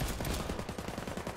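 Rapid automatic gunfire during a video game tournament round: a dense, steady stream of loud shots with no pauses and no talk.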